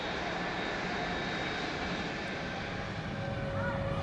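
A Boeing 777-200ER's auxiliary power unit runs at Noi Bai airport while the aircraft is parked, keeping power on for boarding and cargo loading. It makes a loud, unbroken roar with a thin steady whine layered over it.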